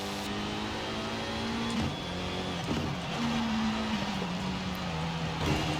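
A Time Attack Evo race car in a Forza racing game revs hard and steadily, its engine pitch rising and dipping through gear changes across the whole stretch, with no voices over it.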